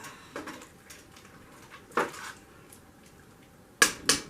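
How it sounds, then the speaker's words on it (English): Vegetables being stirred in a cooking pot for homemade vegetable soup: a few scattered scrapes and clinks of a utensil against the pot, fairly quiet with pauses, ending in two sharper knocks. "Stir these up."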